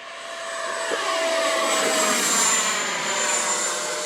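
An E-flite Timber model airplane converted to electric ducted fan makes a fast speed-run pass outdoors, its high-pitched ducted-fan whine swelling as it approaches, peaking mid-pass and trailing off with a slight pitch shift.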